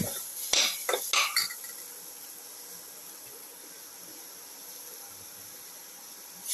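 A pumpkin and tomato mixture being sautéed in a pan: a few quick clinks and scrapes of a spoon against the pan at the start, then a faint, quiet sizzle.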